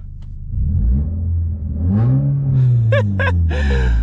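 A Mk4 VW Bora wagon with its muffler deleted revs up from idle, the raspy exhaust rising in a swelling drone and then climbing through a few sharp throttle blips near the end, loud and close.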